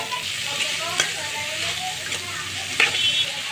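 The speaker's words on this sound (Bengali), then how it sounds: "কড়াটা আমি পেঁয়াজ কুচাগুলো আমি দিয়ে দিব এবং কাঁচামরির সাথে" Chopped onions and green chillies sizzle steadily in oil in a wok while a spatula stirs them, with occasional louder scrapes and clinks. The frying is for a spiced loitta fish bhuna, and no speech is heard.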